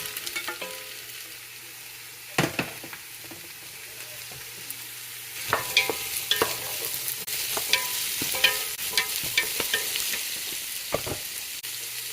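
Onions frying in a pan of ghee and oil for a soya chunk vegetable biryani, a constant close sizzle with occasional scraping stirs and clatters.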